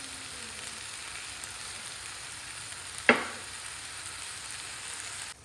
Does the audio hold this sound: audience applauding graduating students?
no